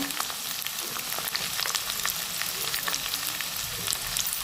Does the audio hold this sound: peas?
yes